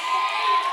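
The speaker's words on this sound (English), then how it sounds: "round of applause because we finished the series" Students in a classroom cheer and clap together, a brief, bright burst of crowd noise with shouting voices mixed in.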